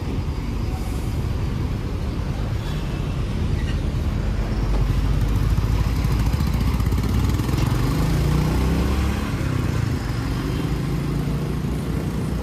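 A motorcycle on a night ride along Palm Beach Road in Navi Mumbai drones steadily under heavy wind rush, with the engine and road noise loud and constant throughout and no clear changes in pace.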